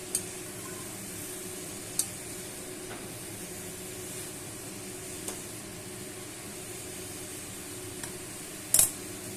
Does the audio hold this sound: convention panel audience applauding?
no